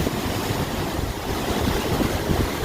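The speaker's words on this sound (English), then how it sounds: "the crazy waves that are coming up alongside the ship" Heavy, continuous roar of rough ocean water and wind, dense and close, with no pauses or voices, as waves churn alongside the cruise ship Carnival Panorama.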